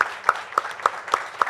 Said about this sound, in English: So it actually calls for the loudest round of applause,